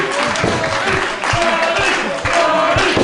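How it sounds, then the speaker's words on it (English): A pro wrestling crowd in Massachusetts cheers and claps loudly during a match, a steady roar that pulses with rhythmic stomping beats while a commentator talks over it. "The crowd getting behind Gargano here."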